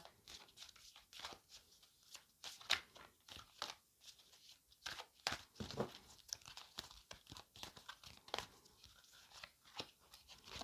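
Tarot cards being pushed and shuffled across a surface, close and quiet, with irregular crisp slides, taps and crinkly rustles over several seconds and no talk.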